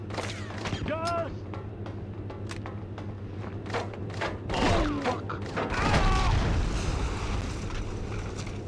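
Video game combat from Cold Winter on PS2: grenade blasts and bursts of gunfire crackle at moderate volume, with several sharp reports and a heavier boom midway, over a steady background hum.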